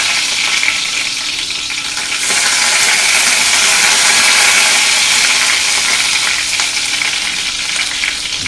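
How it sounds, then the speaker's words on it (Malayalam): Onion, garlic, green chili and curry leaves sautéing in hot oil in a home kitchen, a loud, continuous hissing sizzle that swells as more ingredients hit the pan, with occasional stirring scrapes. "എണ്ണ ചൂടാകുമ്പോൾ ഇത്രയും സംഗതികളിട്ട് വഴറ്റുക."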